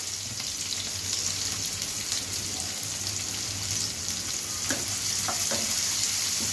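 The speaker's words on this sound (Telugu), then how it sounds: "ఇప్పుడు ఉల్లిపాయలు వేగినాయి, ఇందులో వేసుకున్నాం" Onions sizzle and fry steadily in a pan for an egg curry with konaganti leaves, a continuous hiss with a few stirring clicks near the end, close and moderately loud.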